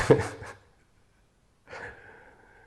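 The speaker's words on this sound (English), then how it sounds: "Breathing deeply." Slow, deep breaths during a gentle meditation and yoga session: a strong inhale at the start, a quiet pause, then a softer, longer exhale, close and fairly quiet.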